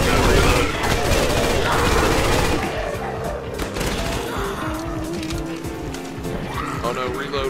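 Rapid, sustained M4 rifle fire in a Call of Duty zombies match, dense and loud at first and then a little lower, mixed with other game noise and a voice.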